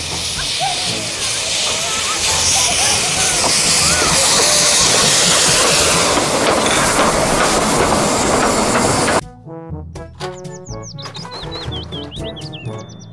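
Toy Thomas the Tank Engine train sound: a loud, dense rolling train rumble with hiss fills the first nine seconds, then cuts to sparser chirpy toy tones, beeps and clicks.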